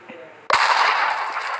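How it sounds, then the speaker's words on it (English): A sudden explosion in Minecraft during a tornado-outbreak map, with a sharp blast that leaves a loud, sustained roaring rush trailing on after a quiet lead-in. "The explosion."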